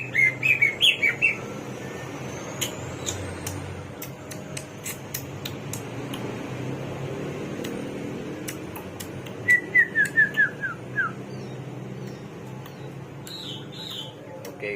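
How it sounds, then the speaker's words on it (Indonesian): A caged samyong bird sings in short bursts of bright, descending chirps and whistles, with a cluster near the start and another near ten seconds, over a faint background hum and scattered ticks. "Sekarang burungnya sudah terpantau bunyi guys."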